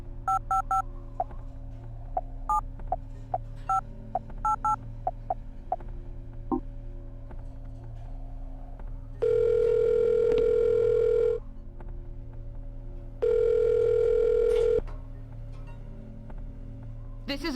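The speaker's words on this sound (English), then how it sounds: "Let's call Tammy" Phone in the video game Silent Hill: Shattered Memories: a quick series of electronic keypad beeps, then two long, loud ringback tones separated by a pause, all over a low background hum.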